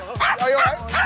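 A dog gives a quick run of three loud, close barks with short yelps between them, heard on a stage during an animal talent audition.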